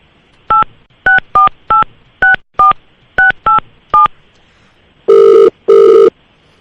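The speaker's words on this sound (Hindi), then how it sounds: "अब यही नंबर रीडायल कर रहा हूँ मैं" Eight short telephone redialing tones beep in a quick, uneven sequence, followed by two longer, louder ringback tones, clear and close.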